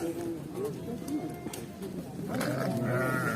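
Sheep or goats bleat at a crowded livestock market in Sokuluk, their calls rising over a steady murmur of voices and crowd noise, with more animal cries near the end.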